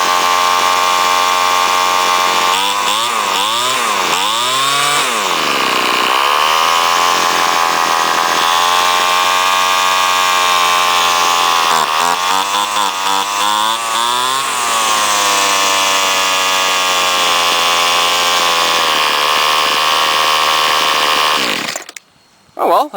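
A 1998-era repaired weed eater's small two-stroke engine runs on its own, a loud buzzing drone that surges and dips in pitch several times as the throttle varies, then cuts out abruptly near the end.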